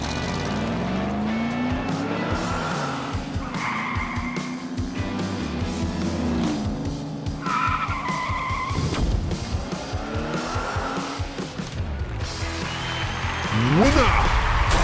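Die-cast toy cars in a ZAMAC tournament heat race down a track, a steady rolling rumble with whirring wheels throughout and a louder surge near the end, heard alongside race-car sound effects.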